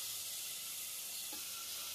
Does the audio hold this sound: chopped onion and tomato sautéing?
yes